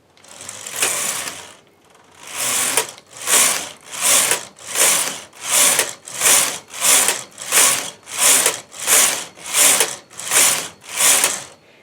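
Knitting machine carriage sweeping back and forth across rows of pink rose lavender sock yarn on a 4.5 mm machine, a steady rhythmic series of about a dozen loud mechanical swishes, each pass rising and falling, close and without talk.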